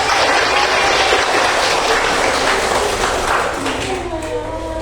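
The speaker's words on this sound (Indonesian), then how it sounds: "Tepuk tangan dong." A class of tenth-grade students claps together in a classroom, a brisk burst of applause that tapers slightly as a voice begins speaking near the end.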